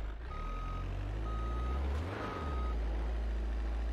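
Steady reversing beeps from a Nissan Terreno in the BeamNG.drive driving game, repeating at an even pace over a constant low engine hum, with no talking.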